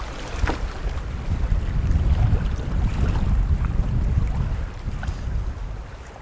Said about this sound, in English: There's a cold east wind blowing on Davies Lake, headwind